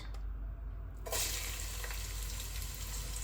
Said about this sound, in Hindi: देखिए तेल हमारा गर्म हो गया है, तो अब इसमें हम सबसे पहले डालेंगे प्याज